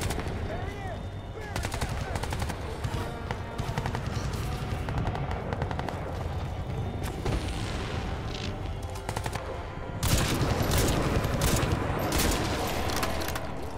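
Dense, continuous gunfire from the video game Crysis 2, rapid automatic bursts and heavy blasts filling the whole stretch, loud and close, growing more intense toward the end.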